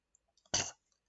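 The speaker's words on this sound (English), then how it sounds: "Cough." A single short, soft cough, close but quiet and alone, with only faint small noises around it.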